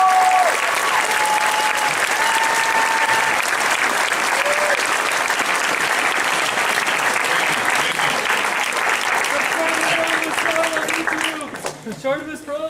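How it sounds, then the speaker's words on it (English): Convention panel audience at Wizard World Sacramento 2014 gives sustained, loud applause with scattered whoops and voices, the dense clapping holding steady before thinning out near the end. "Big round of applause."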